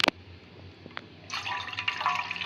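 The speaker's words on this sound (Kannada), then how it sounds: "ಟೀಗೆ ಇದಕ್ಕೊಂದು ಸ್ವಲ್ಪ ನೀರು ಹಾಕೋಣ" Water poured into a pot for tea at a home stove, a few drips and a knock at first, then a splashing, trickling pour that starts abruptly and carries on close by without speech.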